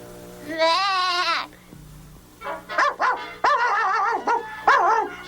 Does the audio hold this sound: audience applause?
no